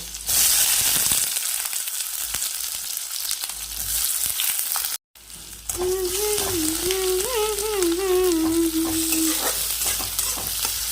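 Onions frying in hot oil for a home-cooked Sambalpuri dish give a loud, steady sizzle that runs almost the whole time. The sizzle breaks off briefly near the middle, then a wavering tonal whine rides over it for a few seconds.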